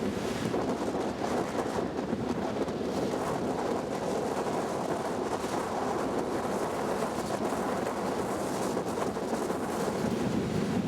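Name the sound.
strong wind over a lake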